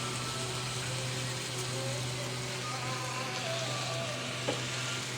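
Chicken curry with curry powder just added fries in a pan, a steady close sizzle with a low hum underneath and a faint clink of stirring near the end.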